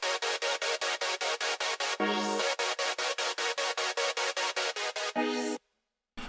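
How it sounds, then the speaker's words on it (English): A synth stab chord built in the Serum software synth, struck in a fast, even run of short bright chord hits, interrupted twice by brief sustained lower chords before ending in a moment of silence. "We have the first stab chord. I'm making it inside Serum."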